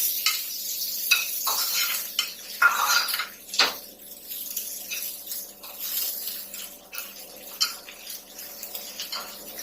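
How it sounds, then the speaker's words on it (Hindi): A spoon stirs a tadka tempering with oregano in a pan for khandvi, making repeated close scraping and clinking strokes over a light sizzle, with no talking. "हमें इसको पकाना नहीं है, सिर्फ थोड़ा सा तड़के के लिए तो बस थोड़ा सा चलाना है।"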